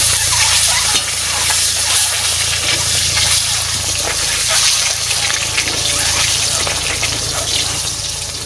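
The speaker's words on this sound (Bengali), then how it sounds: "আর ডিমটা না একটু ভালো করে ভাজবা" Eggs frying in hot oil in a home kitchen pan, a loud continuous sizzle with hissing, bubbling noise held steady throughout, no voice over it.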